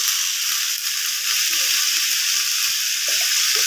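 Potato and pointed gourd curry with turmeric fries in hot oil, giving a loud, steady, close sizzle that runs without a break and has only faint stirring beneath it.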